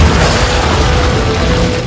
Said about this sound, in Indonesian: tiba-tiba terjadi gemuruh yang menimbulkan sebuah ledakan